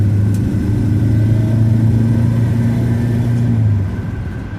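A classic Ford Zephyr MKIV with a V4 engine drives along, its engine a steady, loud droning hum from inside the car that eases off near the end.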